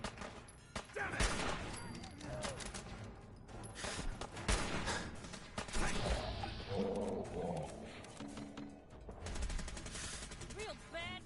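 Gunfire in a modded Fallout 4 firefight, bursts of shots mixed with roaring effects and shouted game voices, loud and busy throughout.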